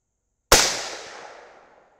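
A single suppressed 6.5 Grendel rifle shot firing a 140-grain Hornady match load, one sharp loud report with a quick decaying tail, close and alone.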